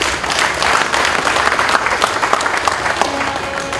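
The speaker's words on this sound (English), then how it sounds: "And we clap for them." A crowd claps at a Castrol partnership launch event, loud, dense and steady applause filling the room for a few seconds without a break.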